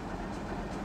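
A loaded freight train at a mine excavator loading site rumbles as it departs, a loud steady low mechanical roar with faint rhythmic wheel noise and no voices.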